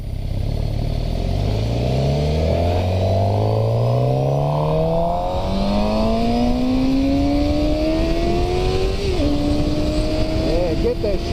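Motorcycle engine pulling hard through rising gears while riding, harmonics climbing steadily with a shift near the end, loud and continuous over steady wind roar.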